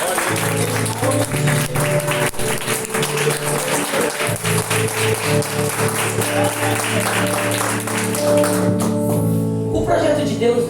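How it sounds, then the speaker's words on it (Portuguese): A church congregation claps and applauds during a service, sustained clapping under a steady sustained musical tone from instruments, with a voice audible and the clapping thinning near the end. "Da salva de palmas ao Senhor."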